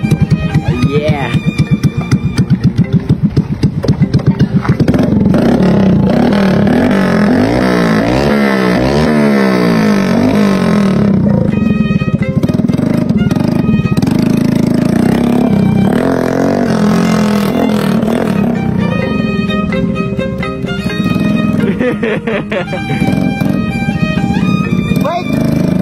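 Small motorcycle engine revving hard and pulling away, loud and close, with rising and falling rev sweeps over the whole stretch while people talk and shout nearby.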